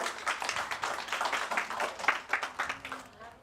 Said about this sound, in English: Another round of applause for Lundo.